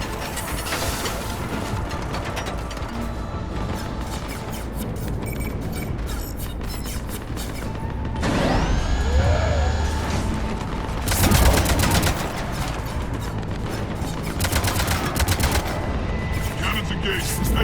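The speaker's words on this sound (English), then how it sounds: "Cannons still need to be manually armed." Cannons firing in the sci-fi video game Mass Effect 3 (Omega DLC), heavy rapid bursts of gunfire-like blasts with booming impacts over a constant loud battle din, with a louder surge midway.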